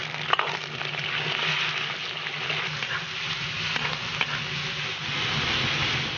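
Fatty pork fries in a pot with a little oil, giving a steady, close sizzle with occasional stirring clatter.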